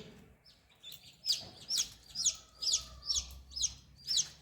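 Chicks on a poultry farm cheep in a quick series of sharp, high calls at an even pace, with soft chicken clucking underneath; the sound is faint and close.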